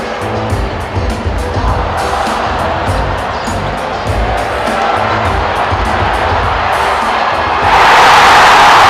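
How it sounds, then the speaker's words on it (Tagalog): A packed Chase Center basketball crowd roars and shouts as the Golden State Warriors rout the Kings and Steph Curry passes 4,000 threes, a dense, steady wall of cheering that swells louder near the end. "Parang sumabog na ang Chase Center sa sigawan."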